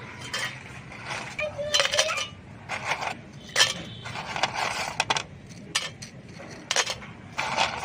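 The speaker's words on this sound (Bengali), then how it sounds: "আমি এখন মিক্সিং বোলের মধ্যে সব বিস্কুটগুলো দিয়ে দেবো" Parle-G biscuits clatter into a mixing bowl in a home kitchen, several light clinking, tumbling bursts spread across the stretch with a faint background murmur.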